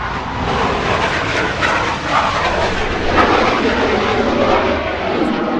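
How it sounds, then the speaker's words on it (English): A loud F-18 fighter jet roars overhead with a broad, sustained rushing noise that fills the whole stretch, no clear voices over it. "damn F-18 keeps interrupting our interview"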